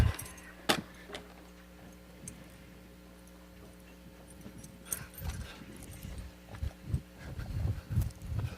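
Car keys jangle in short metallic rattles at several moments, fairly close and light, among small thumps and rustling inside an old pickup truck cab.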